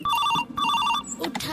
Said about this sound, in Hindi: अरे यार केकर फोन आई है।